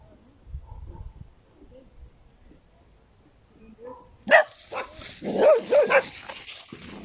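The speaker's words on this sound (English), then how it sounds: "Oh, these dogs." Several dogs bark outdoors at sunset, a burst of sharp barks and yips arriving suddenly after a quiet stretch of faint background noise, moderately close and irregular in rhythm.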